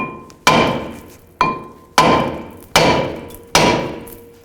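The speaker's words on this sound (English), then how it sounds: "Just take a hammer and just hit in these locations." Five sharp metallic hammer strikes on a 2005-15 Nissan Xterra front brake rotor ring out one after another at an uneven pace, each clang loud and close with a short ringing decay.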